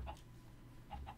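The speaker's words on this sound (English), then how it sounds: "They might have hit some chickens." Chickens in the Minecraft SkyFactory 4 video game give two brief, quiet clucks, one at the start and one near the end, with near silence between them.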